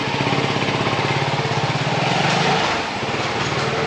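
A Cfmoto 250NK Limited Edition motorcycle engine runs loud and close with a steady, rapid throbbing rev that eases slightly near the end, with no talking over it.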